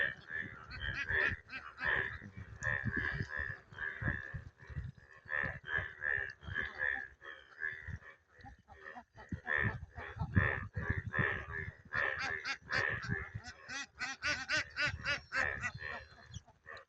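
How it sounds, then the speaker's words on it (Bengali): A flock of domestic ducks in a canal beside rice paddies quacks in dense, overlapping bursts at close range, with the calls continuing almost without pause. "আমার হাঁস খালের মধ্যে অনেকগুলাই, সবগুলোই উঠতে আসে নাই"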